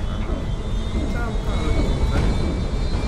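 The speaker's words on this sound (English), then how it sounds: "Sounds like they're trying to restart the engines." Crashed spaceship engines in the game Defiance whine and rumble as they try to restart, a loud continuous roar close by, with a voice speaking over it.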